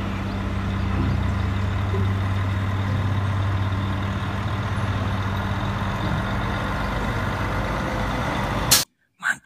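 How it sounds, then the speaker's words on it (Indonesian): A tanker truck rumbles nearby with a steady, low engine drone that holds at an even level for most of the stretch, then cuts off abruptly near the end. "Wih, mobil truk tangki."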